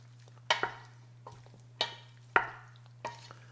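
Drained noodles are stirred with butter in a pot, five or six distinct scraping, sloshing strokes spaced about half a second apart over a faint steady hum, with no talking.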